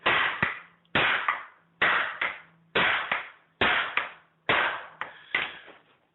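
Hammer blows on the u-joint caps of a Jeep CJ7 front wheel, roughly eight sharp metallic strikes landing in close pairs at a steady rhythm, loud and near, with no talking.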